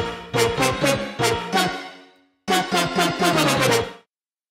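Two layered synth lead sounds and a piano in an Ableton Live arrangement play bright, punchy chord stabs in a skippy groove, two phrases separated by a short gap, loud and alone.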